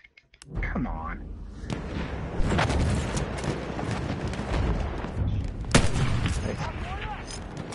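Sniper shots ring out in a PS4 video game, with several sharp booming reports spaced a few seconds apart amid steady game noise, and people talk over them.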